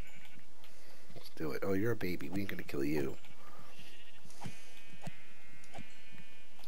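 Sheep bleating in Minecraft: several pitched, wavering bleats crowd the first half, close and fairly loud, with a player talking over and after them.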